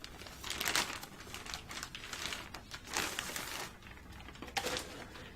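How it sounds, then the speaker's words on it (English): Tape peeled off an MSI X399 Gaming Pro Carbon AC motherboard box, a faint, close crinkling and tearing in several short bursts over a few seconds, without talk. "we got a little bit of tape here, so let's see if the tape comes off easily"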